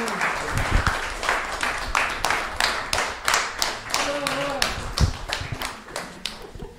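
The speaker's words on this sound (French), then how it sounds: "on va les applaudir bien fort" An audience claps at the close of a social selling forum conference, a rhythmic, uneven burst of hand claps with voices talking over it, close and moderately loud.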